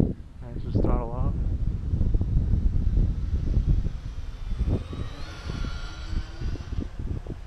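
An RC P-38 model airplane's electric motors run at full throttle on a windy flightline, a steady buzzing whine in the air with a rising tone near the end, alongside people talking and wind buffeting the microphone.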